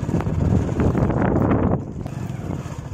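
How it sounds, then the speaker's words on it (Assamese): Wind buffets the microphone in low, rumbling gusts near the Bhutan hills, strong at first and then easing off, with no one speaking. "আৰু ধুনীয়া বতাহ এজাক দি আছে।"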